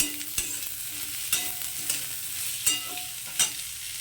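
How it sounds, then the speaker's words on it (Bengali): Thin-cut radish is stirred in a frying pan over a soft sizzle, with a few sharp scrapes of the spoon against the pan at irregular intervals. "মুলোটা একটু হালকা নাড়াচাড়া করে নেবো"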